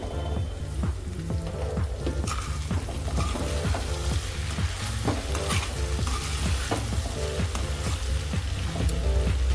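Potato, capsicum and sweet corn sabzi cooks in a pan with a dense, continuous sizzle and repeated stirring scrapes and clinks throughout, close and fairly loud with no talking.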